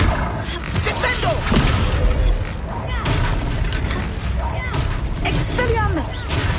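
Descendo slam-down spell cast during a Hogwarts Legacy battle, with heavy booms and crashing impacts under loud shouted voices and a busy combat soundscape.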